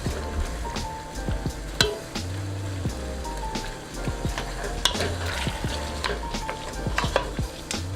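Chicken noodle soup being stirred in a pot, with repeated scraping and clinking strokes of a utensil over a low bubbling simmer, close and moderately loud, with no talking.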